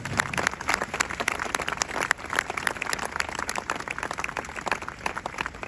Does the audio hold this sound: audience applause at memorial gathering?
yes